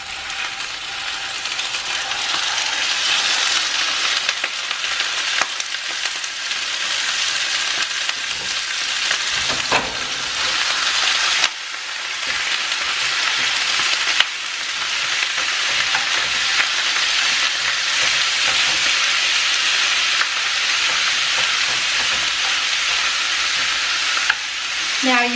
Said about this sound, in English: I'm now going to put my ground beef on my pan and cook it for about 5 minutes